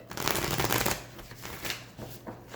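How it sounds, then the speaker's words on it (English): Tarot cards shuffled by hand, a close crisp riffle followed by several shorter, softer shuffling flutters in an otherwise quiet room. "just one more shuffle, because that's what they're telling me"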